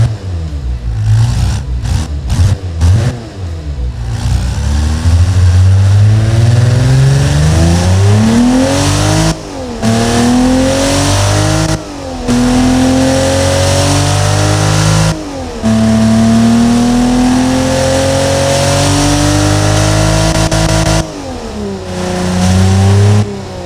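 An inline engine car in the Automation game, fitted with a straight-through muffler and a replaced intake manifold, airbox and air intake, revs loudly and repeatedly, climbing in pitch with short breaks between pulls and no talking.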